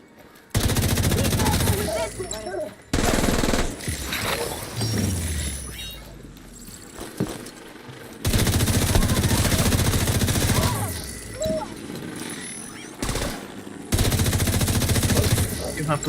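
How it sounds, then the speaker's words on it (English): Saint Elmo's Engine rifle firing in Tom Clancy's The Division 2, loud sustained automatic bursts broken by short pauses, with game noises and some voice between volleys. "You have to praise this gun, man. Saint Elmo's is really good."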